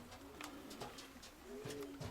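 Pigeons and their young squabs cooing softly in low, rolling murmurs, several overlapping coos close by with a faint rustle in the background.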